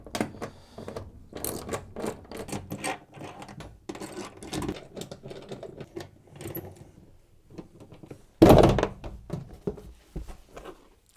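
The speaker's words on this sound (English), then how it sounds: "you need to remove the back panel of the appliance by undoing the 6 bolts using your" A 7mm socket undoes the bolts on the back panel of a Zanussi washer dryer, giving scattered close metallic clicks and ratcheting taps, with one louder clattering burst near the end.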